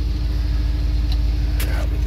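A car engine runs smoothly after a fresh start, with a constant close low rumble and a couple of faint high clicks over the top.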